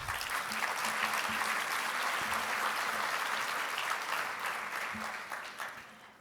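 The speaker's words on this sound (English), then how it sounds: "So if we can give those three judges a round of applause." A conference plenary audience claps for three competition judges, steady sustained applause filling the hall for several seconds before tapering off, with a faint voice underneath.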